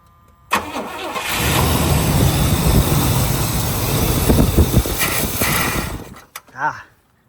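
An old Pontiac car engine cranks briefly, then catches and runs at a steady, loud idle for several seconds before cutting off, with a couple of short clunks and a faint voice at the end.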